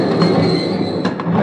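A train pulling into a station, its wheels squealing and grinding as it slows, a steady close rumble with a high metallic whine on top and a couple of brief brake hisses near the end.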